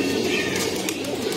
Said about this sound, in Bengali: এই যে একটা কবুতর দেখতেছেন, বাচ্চা